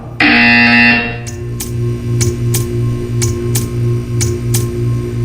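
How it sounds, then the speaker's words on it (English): A loud electronic buzzer in Portal 2 sounds for about a second, followed by a run of regular ticking pulses over a low repeating hum. "You will hear a buzzer."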